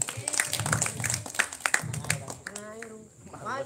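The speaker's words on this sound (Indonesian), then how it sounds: "Tepuk tangan sekali lagi buat kelompok berapa tadi?" Brief, scattered hand clapping from a small audience at an Indonesian group game session, mixed with talk and laughter, then fading as a voice carries on alone.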